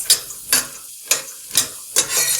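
Peanuts frying in a pan for sabudana khichdi, stirred in five sharp bursts of rattling sizzle spaced about half a second apart, close and fairly loud with quieter frying between strokes.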